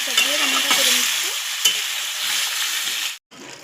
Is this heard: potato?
yes